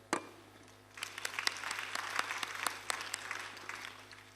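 A church congregation breaks into applause and cheering, a steady wash of clapping with sharp individual claps standing out, filling the room after a brief opening clap.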